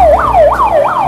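A red and white toy ambulance sounds its siren, a loud close wailing tone that sweeps up and down in quick repeating cycles, about three rises in just over a second.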